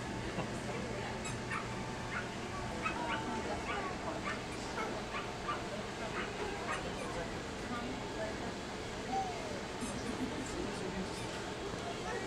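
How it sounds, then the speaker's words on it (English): Dogs whimper, yip and bark at a distance outdoors against a busy background, while people talk nearby. "Doggies are over here. Look at those doggies, Haley."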